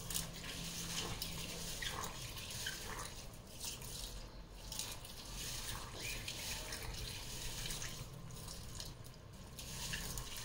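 Continuous splashing and swishing of water with small clinks, as urad dal lentils are rinsed and stirred in a bowl, steady and fairly quiet.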